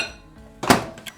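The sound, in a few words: microwave oven door closing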